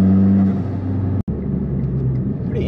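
A Mitsubishi Evo X MR engine hums steadily while driving, a low rumbling drone with slight shifts in pitch, a brief dropout partway through, then the engine continues.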